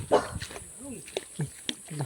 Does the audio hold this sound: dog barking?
yes